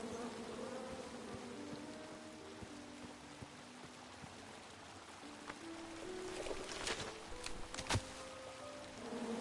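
Angry bees buzz in the King's Quest video game, a faint continuous droning hum with shifting tones. A few sharper swooshes and thuds come late.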